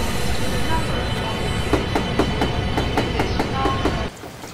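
Chinese CRH2A bullet train running in a simulator, a loud steady rumble with rhythmic clickety-clack of wheels over rail joints, ending abruptly as the sound cuts off.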